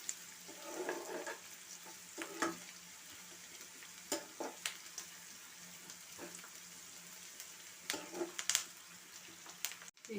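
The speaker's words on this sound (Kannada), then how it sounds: "ಚೆನ್ನಾಗಿ ಇದು ಆನಿಯನು ಕಲರ್ ಚೇಂಜ್ ಆಗೋವರೆಗೂ ಇದನ್ನು ನಾವು ಫ್ರೈ ಮಾಡ್ಕೋಬೇಕಾಗುತ್ತೆ." Onions frying in a pan for capsicum vangibath, a faint steady sizzle under scattered scrapes and clinks of a spoon stirring, quiet and close, with no speech.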